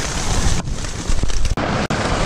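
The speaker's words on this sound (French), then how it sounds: "Mauvaise nouvelle, il y a de la grêle." Hail and heavy rain hammer down outdoors in a storm, a dense, loud, continuous roar with gusting wind noise buffeting the microphone and two abrupt brief dropouts near the end.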